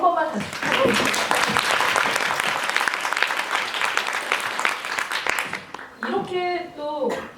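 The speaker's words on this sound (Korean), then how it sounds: "큰 박수 한 번만 다시 부탁드립니다" An audience at a post-screening talk with the director and cast breaks into loud, sustained applause that swells and then fades, with a voice speaking briefly before and after it.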